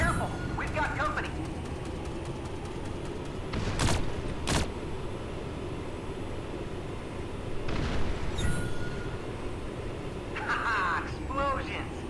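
Explosions go off in the Farlight 84 mobile shooter game, with a few sharp, loud blasts scattered between steady game noise and voices.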